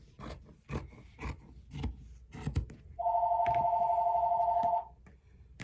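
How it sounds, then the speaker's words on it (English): A steady electronic phone ring sounds for about two seconds, preceded by a series of soft knocks and taps nearby, with no talking. "so I'm not gonna answer that phone."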